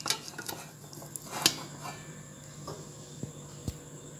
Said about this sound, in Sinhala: අපි දැන් ට්‍රේ එක එළියට ගමු.